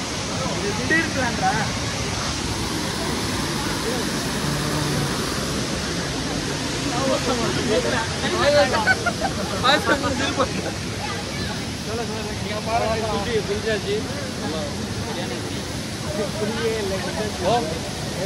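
Beeman Waterfalls in the Jawadhu Hills roars as a steady, loud, broadband rush of falling water that fills the whole stretch, with voices faintly mixed in underneath.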